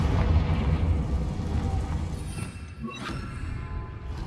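Confringo blasting spell going off in Hogwarts Legacy, a loud rumbling blast that fills the whole clip with a dense low roar, followed by a sharper crackling burst near the three-second mark.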